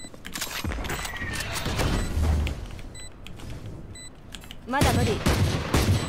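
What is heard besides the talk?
Sovereign Ghost pistol gunshots in VALORANT video game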